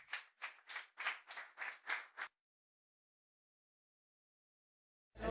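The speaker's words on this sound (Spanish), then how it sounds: "Denle un aplauso al Señor fuerte." A church congregation claps in several quick bursts with short gaps between them, then goes silent. A brief loud burst follows at the very end.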